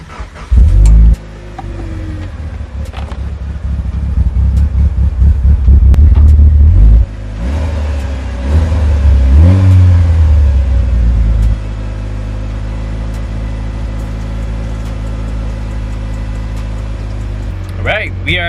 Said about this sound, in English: I'm gonna go ahead and turn the ignition, turn it on, make sure our wideband is reading